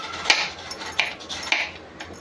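A quarter-kilogram block of jaggery is broken up for a sesame and peanut sweet, with four sharp, evenly spaced crunching knocks close by and no voice.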